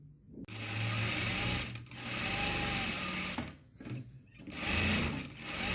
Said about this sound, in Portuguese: eu sempre faço a costura de segurança em volta do tecido todo.